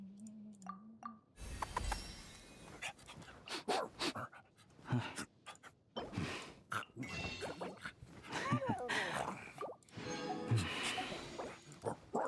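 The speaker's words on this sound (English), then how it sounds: "Lots of dog noises." Dog panting, whimpering and snuffling noises in the video game Genshin Impact, coming in quick irregular bursts of varying loudness over a few seconds, with faint game sounds between them.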